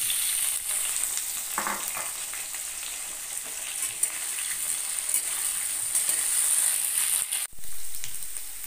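Diced potatoes with cumin seeds and chopped green chillies hiss and sizzle steadily in hot oil in a pan, with occasional scraping stirs from a spatula and no talking.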